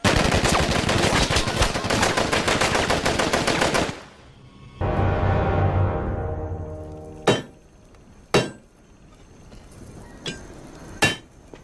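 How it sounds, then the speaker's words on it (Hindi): A long burst of rapid automatic gunfire in a Rambo action film, then a pause and a few loud single shots with ringing echoes, all close and loud. "उन पर गोलियां चलाओ।"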